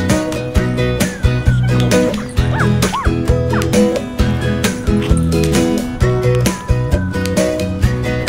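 A husky puppy gives a few sharp yips and barks, with rising whimpers in between, over a loud, steady background of sustained tones.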